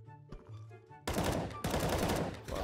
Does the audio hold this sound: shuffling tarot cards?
no